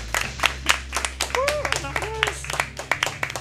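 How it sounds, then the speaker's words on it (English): Several hands clapping in a steady run of sharp claps during a livestream charity marathon, with a voice talking underneath. "Please clap."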